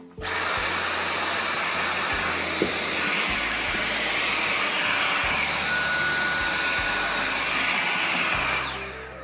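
Dyson Absolute cordless vacuum with a fresh battery and a hard floor head running continuously nearby, a steady high-pitched whirring drone that winds down at the end.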